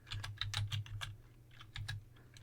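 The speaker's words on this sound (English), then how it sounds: "Next thing you want to do is type the command sudo dnf" Close, fairly quiet clatter of keys on a computer keyboard as a terminal command is typed, a quick uneven run of taps with a short pause midway.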